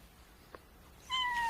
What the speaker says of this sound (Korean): 고양이인데 삐약하고 울다니